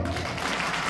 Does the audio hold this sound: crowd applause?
yes